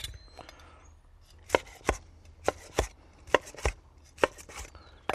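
Grilled sausages being sliced on the bias with a knife on a cutting board, about a dozen sharp, close chops in an uneven rhythm over quiet background.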